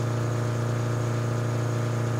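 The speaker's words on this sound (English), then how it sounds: "For some reason I can't stand the engine sound of this." Steady, monotonous engine drone of a vehicle in the game RoadCraft, a constant buzzing hum at even loudness with no variation, alone without voices.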